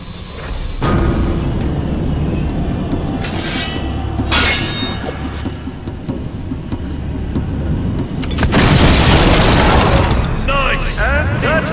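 Explosions in Fable 2's Crucible arena, booming blasts rumbling through several seconds with a louder burst near the end, under crowd noise and talk.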